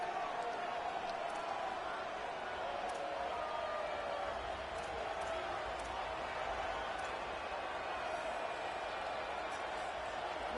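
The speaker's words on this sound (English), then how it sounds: "this crowd is bringing down the house" A college football stadium crowd roars in a steady, dense wash of noise from start to finish, loud and sustained, with a commentator's voice over it.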